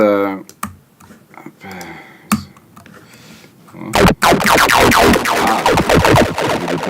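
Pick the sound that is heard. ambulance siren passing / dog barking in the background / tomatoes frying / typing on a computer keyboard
typing on a computer keyboard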